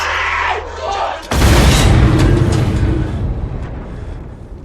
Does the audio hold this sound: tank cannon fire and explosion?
yes